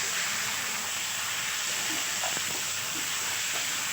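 Marinated chicken with onions frying in a pan gives off a steady, hissy sizzle at close range, faint clicks of movement scattered through, with no voices.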